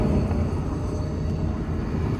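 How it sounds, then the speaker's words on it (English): A train passing close by fills the clip with a loud, steady low rumble that holds at an even level from start to finish, with no talking over it. "Oh, that's the train. I thought it was my brakes."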